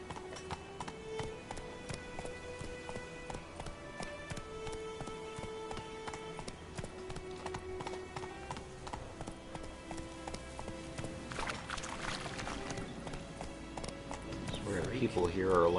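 Roach, the horse in The Witcher, gallops in a steady clip-clop of hooves throughout, with a brief whinny-like burst toward the end and game music and ambience underneath, growing louder at the close.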